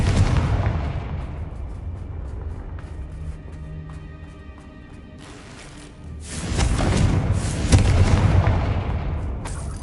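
Confringo fire-blast spell explosions in the video game Hogwarts Legacy: loud booming blasts with a sustained rumbling burst in the second half, over ongoing game noise.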